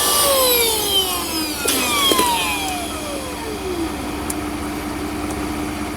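An electric Vogma all-in-one paddle board pump runs steadily at close range, its motor drone continuous through the clip, with a few gliding tones sweeping downward and a couple of faint clicks.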